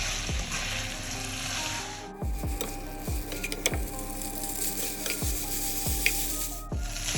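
Rice being stirred and mixed with chicken powder in a pan for Singaporean rice, with repeated scraping strokes of a spatula against the pan at a steady rhythm, close up and without talk.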